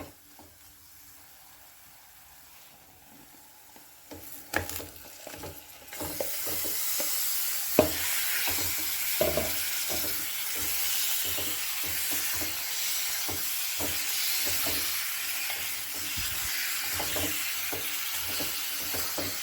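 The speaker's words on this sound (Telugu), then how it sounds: "ఇప్పుడు ఇందులో చికెన్ పీసెస్ వేసేద్దాం" Chicken pieces fry in a chilli powder spice mixture for a chicken curry, starting with quiet low sizzling and then breaking into a loud, steady sizzle and hiss, with repeated stirring scrapes and clinks throughout.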